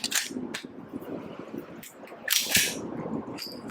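A Kimber 1911 Rapide pistol firing, two or three sharp reports with short decays heard fairly close, alone without talk.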